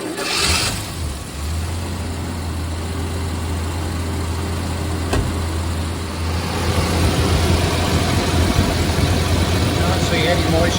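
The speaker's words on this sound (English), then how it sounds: "We'll start it up and we'll let it idle for a minute" A Jaguar XJS engine starts and settles into a steady idle, a low constant rumble close by that grows slightly louder and rougher toward the end.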